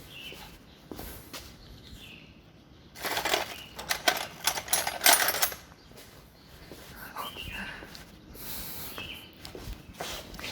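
Wire brush scrubbing a spark plug from a Suzuki Carry 1000 ST100, a bristly scratching that swells into a louder burst of rapid strokes midway, with quieter brushing before and after.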